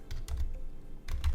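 Someone types a Linux terminal command on a computer keyboard, a quick close cluster of key clicks in two short bursts with a brief gap between them.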